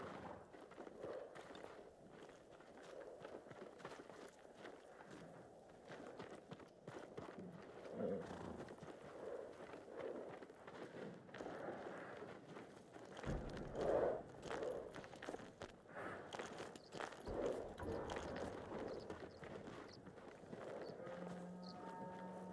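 Horse hooves clip-clop steadily in Ghost of Tsushima, a samurai horse walking at a soft, even pace beneath faint ambient noise, with a few louder thuds partway through.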